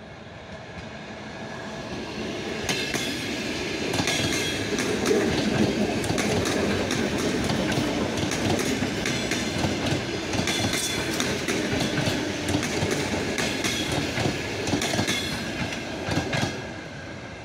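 A train runs along a railway line past the site of a former station at dusk, a steady loud rumble with rhythmic clickety-clack of wheels over rail joints continuing throughout, close by, with no voices.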